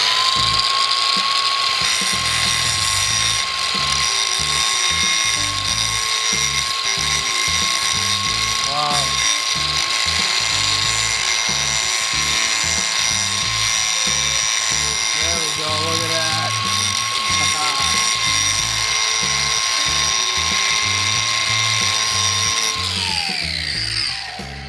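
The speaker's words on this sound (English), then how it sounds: "and now on to the final test, where I bring out my angle grinder" Angle grinder cutting into the toe of an indestructible work shoe, a loud steady high-pitched whine with grinding chatter lasting over twenty seconds before spinning down at the end; someone speaks briefly over it.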